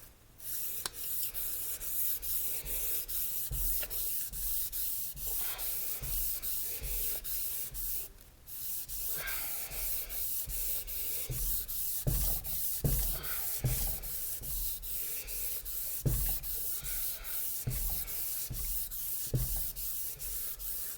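Steady, continuous sanding of a steel railroad rail head, a dense abrasive rasp with rhythmic back-and-forth strokes and a brief pause partway through.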